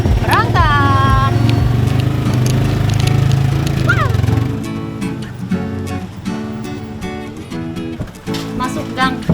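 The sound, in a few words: motorcycle engine running while riding into an alley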